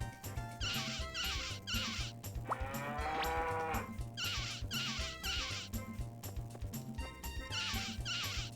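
Cows mooing outdoors in a farm setting, with a long drawn-out bellow rising and falling in the middle, over steady background noise and other rhythmic sounds.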